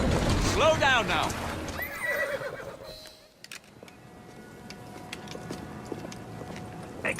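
A horse in Assassin's Creed Syndicate neighs loudly twice in the first seconds, whinnies rising and falling, with hoof clops, then the scene quiets to faint ambience and occasional taps.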